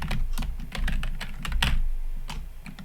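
Brisk typing on a computer keyboard, heard up close as a rapid, uneven run of crisp clicks and key thumps with no voice.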